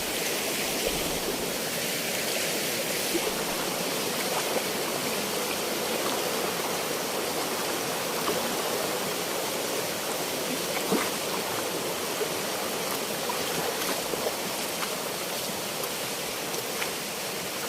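A river flows steadily at a crossing point, a continuous broadband rush of water that stays even and unbroken throughout with no voices.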